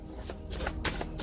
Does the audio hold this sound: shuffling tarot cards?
yes